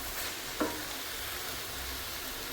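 Green chillies sizzle in a frying pan with a soft, even hiss, broken by a single brief scrape of a stirring spoon; quiet and close.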